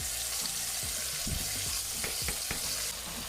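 Chicken frying with curry seasoning in a pot gives a steady, close sizzle, with several stirring scrapes and clacks breaking through toward the end.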